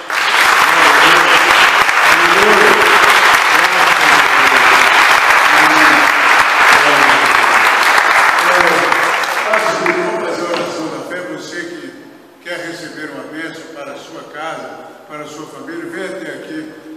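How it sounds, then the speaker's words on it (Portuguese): A church congregation at a Baptist worship service claps loudly in sustained applause that fills the room, then fades as a voice begins speaking. "Vamos aplaudir o Senhor."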